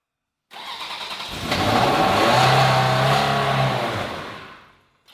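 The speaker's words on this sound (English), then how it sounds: "Time to start the Ferrari for the first time in 2 years" A Ferrari 360 Spider engine cranks and fires up after sitting unused for two years, catching into a loud, steady rumbling idle close by that holds for several seconds before the sound cuts off.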